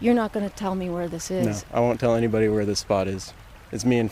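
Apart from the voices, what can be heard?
No everyday noise stands out behind the speech.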